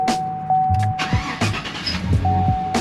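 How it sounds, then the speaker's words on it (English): A Chevrolet Tahoe with a cooling fan that won't shut off cranks and starts, with a stuttering cranking rhythm rising into a running engine, close and fairly loud. "But if you turn the engine on"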